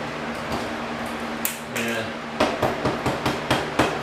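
A hammer strikes nails in an old house wall being gutted for rehab, first a few scattered knocks and scraping, then a quick run of about seven sharp, close blows.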